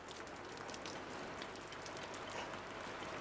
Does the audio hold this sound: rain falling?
yes